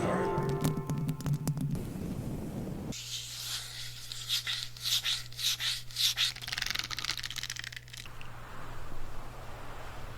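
Close ASMR scratching comes in rhythmic bursts, like quick rubbing strokes repeated several times, over a steady low hum, with other sounds before and after.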